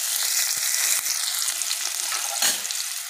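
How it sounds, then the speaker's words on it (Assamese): Onions sizzle in hot oil in a wok, a loud, dense crackling hiss with a few scraping stirs, heard alone. "তাতে মই পিঁয়াজখিনি দি দিছোঁ। পিঁয়াজখিনি দি অলপমান ভালকৈ ভাজি ল'ম।"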